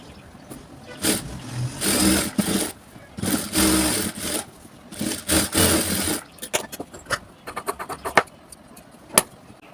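Sewing machine stitching the side seams of a blouse, running in several loud bursts of steady whirring broken by pauses, followed by scattered clicks and light handling noises.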